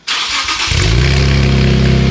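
An Infiniti Q60 engine cranks and fires up on a cold start, then settles into a loud, deep, rumbling idle with a throaty exhaust drone, close by.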